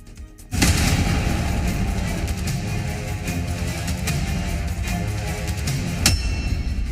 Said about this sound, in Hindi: घर में कर दिया धमाका